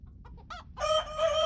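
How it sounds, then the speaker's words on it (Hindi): Hen clucking close by in an indoor scene, a few soft short clucks rising into a louder, drawn-out squawking call that lasts to the end, with no speech. "ये ऐसी वैसी मुर्गी नहीं है, वासुदेव की मुर्गी है, रूपवती।"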